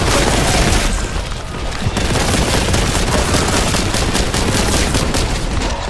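A Boltgun in Warhammer 40K: Boltgun Horde Mode blasts away in sustained bursts, thick booming shots layered with explosive impacts, loud and close throughout with only a brief dip in intensity.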